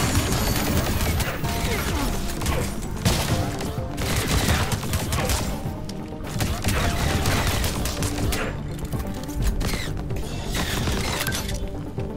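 Weapon fire in the video game Flashback 2, a dense and continuous clatter of shots, impacts and crashing effects that stays loud throughout the whole stretch.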